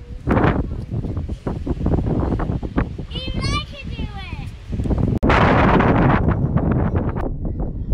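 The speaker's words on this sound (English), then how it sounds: "that's so windy." Strong wind gusts at a park rumble and buffet the microphone almost throughout, with children's voices and an adult speaking over the roar.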